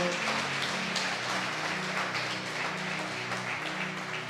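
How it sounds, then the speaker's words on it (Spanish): A church congregation breaks into sustained applause, a dense patter of many hands clapping steadily and fairly softly throughout, with no voices standing out. "Denle un aplauso fuerte al Señor"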